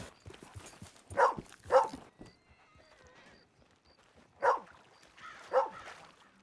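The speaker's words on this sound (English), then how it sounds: "Excuse me, pupper. Don't get trampled." In the Red Dead Redemption 2 video game, a horse snorts and neighs while a dog barks nearby, several short, distinct calls spaced apart over quiet ambience.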